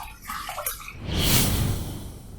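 Water splashes and runs as a face is rinsed after a wet shave, a close, soft trickle that swells into a brief rushing splash before easing off.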